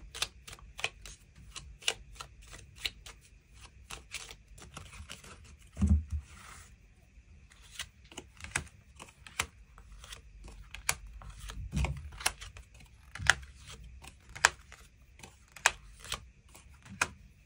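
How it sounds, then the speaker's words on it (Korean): Tarot cards shuffled and drawn on a table: soft, irregular clicks and flicks of card stock with a few louder slaps, quiet and close, with no talk. "추가 카드 뽑아보도록 하겠습니다"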